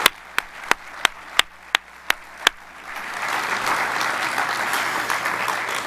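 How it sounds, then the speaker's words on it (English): A lecture audience breaks into a round of applause: several single sharp claps ring out in a slow rhythm, then a dense, sustained wash of many hands clapping fills the room. "can we give these public servants and scientists a round of applause for the great work they do?"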